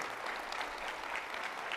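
A crowd at a school district State of the Schools address applauds, a brief, faint, even patter of many hands clapping at a distance.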